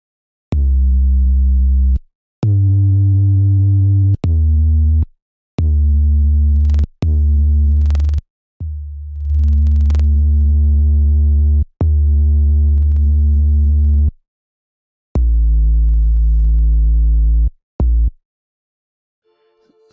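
Clean 808 bass notes played in FL Studio's Flex plugin, then pushed through distortion and limiting: deep, sustained tonal bass hits in a steady sequence of separate notes with short gaps, loud and alone with no talk.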